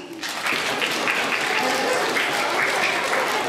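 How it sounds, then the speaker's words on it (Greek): Children applaud their parents at an outdoor evening cultural event in a town square. Dense, steady clapping starts almost at once and holds loud and even throughout, with a faint murmur of voices underneath. "Τα παιδάκια να χειροκροτήσουν τους γονείς"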